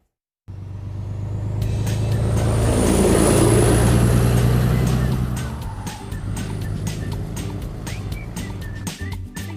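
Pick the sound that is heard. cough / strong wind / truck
truck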